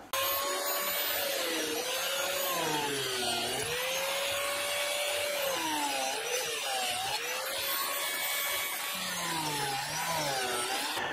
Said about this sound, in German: Stelle ich meine Flachdübelfräse und ich mache erst die Loch in die Querträger und dann in die Seiten.